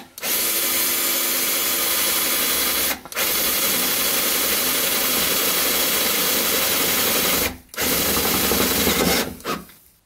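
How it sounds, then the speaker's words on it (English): A power drill whirring loudly in long steady bursts, stopping briefly three times between runs, with a grinding edge as it bites into the metal of a car sill. "somewhere right in here is where I'm going to drill the hole"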